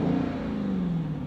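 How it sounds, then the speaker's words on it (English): A 2021 Dodge Challenger Hellcat's engine rises briefly on a throttle blip and then sinks back, a close, mid-pitched drone with a slight falling tone and no speech over it. "So I'm gonna click on the throttle real quick."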